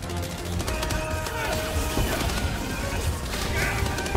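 Rapid gunfire aimed at the player in Helldivers 2, a busy crackle of shots and impacts that carries on under the game's noise and lasts throughout.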